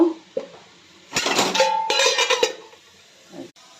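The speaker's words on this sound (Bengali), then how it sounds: "এবার একটা প্লেট ঢুকিয়ে দেব" A plate is set down into a pressure cooker on a stand for steaming hilsa fish, giving a close burst of rattling, clinking metal clatter that lasts about a second and a half, then quiet.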